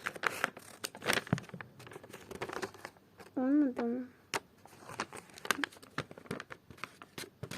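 A gift being unwrapped, its paper crinkling and tearing in short bursts close by, with people talking between the sounds.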